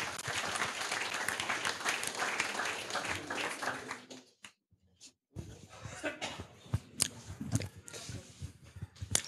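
Applause from the audience at a youth hackathon's closing presentations in Cologne, a dense clatter of clapping that breaks off into near silence for about a second, then returns as scattered, thinner claps.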